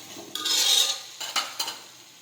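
Vegetables for a Gujarati dry sabzi stirred in a pan, giving a broad hissing scrape followed by two short spoon-against-pan strokes, close and fairly loud with no talking.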